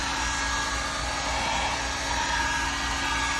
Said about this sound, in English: I'm just gonna take this heat gun and just